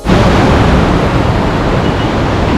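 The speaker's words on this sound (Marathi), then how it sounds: "ती पार्वती रिव्हर आहे आणि पावसामुळे खूप पाणी जास्त आहे" The Parvati River near Kasol, swollen by monsoon rain, rushing in a loud, steady broadband roar heard close from a bridge, constant with no pauses and no voices.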